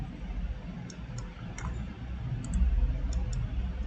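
A computer mouse clicking during CAD modelling work, a few sparse light clicks spaced out over a soft background hum, close and quiet, with no one talking.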